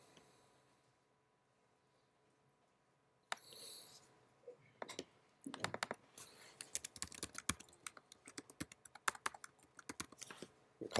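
Code being typed on a computer keyboard: a flurry of close, crisp key clicks at an uneven, quickening pace after a quiet start with a few isolated taps.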